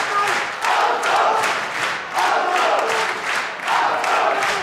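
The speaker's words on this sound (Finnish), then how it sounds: "yleisö kannustaa villisti Kuivasta." Crowd at a CAGE MMA fight in Finland cheering wildly for Anton Kuivanen, a loud, sustained roar of many voices swelling in rhythmic waves, like repeated chanted shouts, filling the hall.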